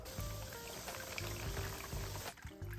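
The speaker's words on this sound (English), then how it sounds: "Then we're going to fill this with water." Water pours steadily into a container holding rusty vintage dumbbells, a continuous hissing splash heard close and fairly quiet, briefly dipping near the end.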